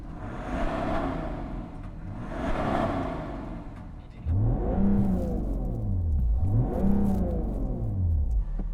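A diesel BMW M340d Touring engine revs in two long swells, rising and falling in pitch, first muffled then louder and closer with a deeper rumble.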